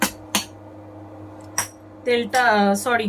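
Cardamom pods stirred in hot ghee in a pan, a few sharp metallic clinks of a utensil against the pan, sparse and close, with a brief sizzling rustle near the end.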